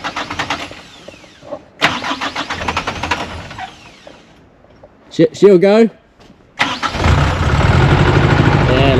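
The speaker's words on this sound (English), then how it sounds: "Hopefully the truck starts." A truck engine cranks, catches and settles into a steady idle beside a fiord at Doubtful Sound, following a burst of nearby talk and starter whine.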